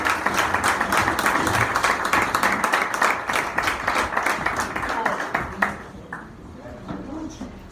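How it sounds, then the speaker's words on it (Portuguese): A church congregation claps in welcome for a group of women during a service, a dense, steady wash of many hands held for several seconds before thinning out toward the end. "Receba as servas do Senhor com as palmas"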